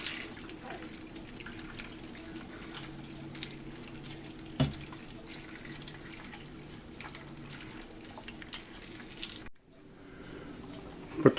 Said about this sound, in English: Add cold water to fill the pot to about 2/3 full.